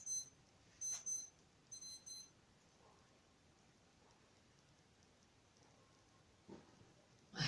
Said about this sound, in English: I have an alarm set on my phone, and or on my watch, and I keep forgetting to change it.